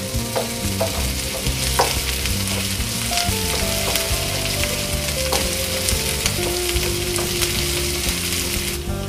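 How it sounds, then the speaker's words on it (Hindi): Steady sizzling and crackling of onions frying in a pan, continuous and fairly loud, with occasional stirring scrapes and no talking. "हमारी प्याज भुन गई है"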